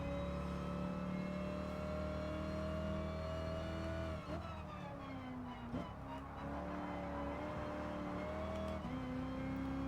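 Racing car engines in the Gran Turismo Sport video game drone steadily and close, with the pitch shifting through gear changes as a car sits right behind on the exhaust, and no talking.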